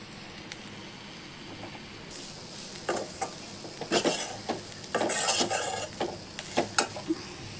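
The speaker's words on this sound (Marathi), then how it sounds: "हांगसर आतां सोय भाजताय पळय, बरी भाजून घेता." Soya chunks roasting in a pan crackle and sizzle as a spatula scrapes and clatters against the metal in a quick, irregular rhythm of close, fairly loud strokes, with no talk.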